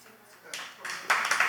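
Applause breaks out from a comedy show audience at the Minifest, rising in quick surges from near silence to a dense, loud spatter of clapping within about a second.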